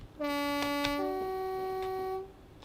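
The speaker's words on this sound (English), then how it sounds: "I think this is the cab with the better horn" A locomotive horn on the Merlin Light Railway sounds a sustained two-tone chord, dropping in pitch partway through, heard from inside the cab at moderate loudness.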